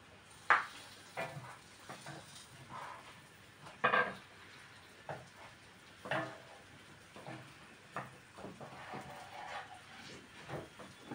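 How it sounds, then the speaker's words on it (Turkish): Spinach gözleme flatbread sizzles and hisses as it fries in a pan, with scattered clinks and scrapes of utensils over a soft background. "Ben de kızartmaya devam ediyorum"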